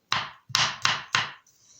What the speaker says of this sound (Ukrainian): І яблучко нарізаю також кубиками.